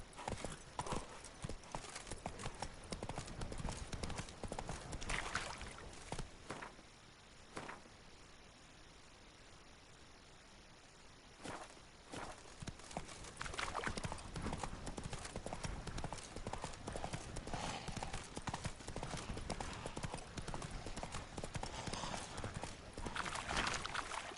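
Roach the horse from The Witcher 3 gallops with steady, loud hoof clip-clops across most of the stretch, briefly thinning out midway, with a short whinny and a few spoken words in the game.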